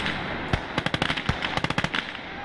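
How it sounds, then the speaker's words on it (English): Grenades going off in Call to Arms: Gates of Hell, a World War II strategy game: a rapid, irregular string of sharp cracking explosions, about a dozen in under two seconds, over a steady background battle din. "And there we go, grenades are hitting the position."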